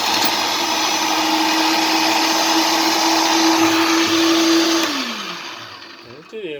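A Philips 1600 W electric meat grinder runs with a loud, steady motor hum and whine, then spins down and fades near the end, without talk.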